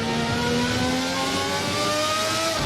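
A Formula 1990 V12 race car engine in a racing simulation screams at high revs, with a steady, rising harmonic whine held loud and close for the whole stretch, no voices.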